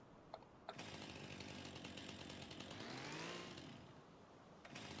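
Chainsaw from the video game Farming Simulator 25: a short click, then a small two-stroke saw revs up and drones at a high pitch, rising and falling briefly through a cut before it cuts off. It sounds clean and close.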